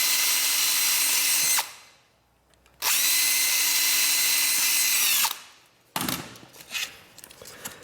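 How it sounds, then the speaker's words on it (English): A power drill whirs loudly in two long bursts separated by a pause, then a third shorter, uneven burst as it bites through wood. "drill through with the same drill bit"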